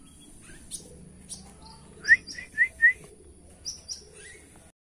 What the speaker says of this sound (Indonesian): Ini burung namanya Anis Kembang ya.